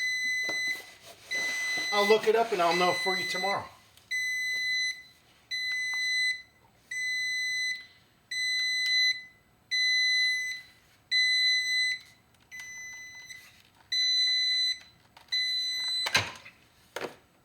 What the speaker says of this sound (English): No idea what that alarm is?